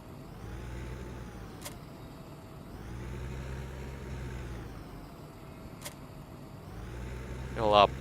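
A tractor engine runs in Farming Simulator 15, a steady low rumbling drone that swells and eases in slow cycles, with a brief voice near the end.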